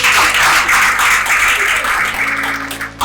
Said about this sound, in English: Please clap for us.